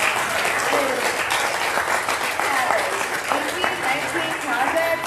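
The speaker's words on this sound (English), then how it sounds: "Let's get a round of applause again for all the hard work." Hackathon audience at a bitcoin conference applauding the presentations, a sustained burst of dense clapping from a crowd filling the room, steady and loud throughout with a voice audible beneath it.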